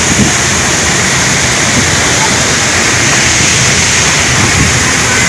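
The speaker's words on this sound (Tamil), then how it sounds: "இது அடுத்த ஃபால்ஸ்" Hogenakkal waterfall thundering nearby, a loud, dense, unbroken roar of falling water that fills the whole scene without pause.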